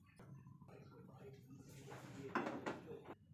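A pan set on a lit stove makes a few metallic clunks and scrapes, quiet and close, ending in a brief louder clatter.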